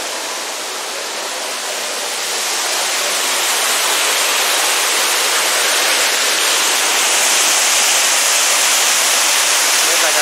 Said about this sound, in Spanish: Cascada que estaba allá afuera, alta.